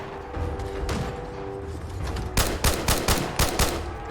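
Fallout 4 Far Harbor gunfire: a quieter stretch with scattered shots and mechanical clatter, then a loud, rhythmic string of about eight close, punchy shots fired in quick succession.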